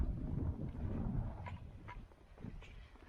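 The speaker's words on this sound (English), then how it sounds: "Don't know if you can hear me now because of the wind." Gusty wind on an open hillside buffets the microphone with a heavy, low rumble that swells and eases with no talking.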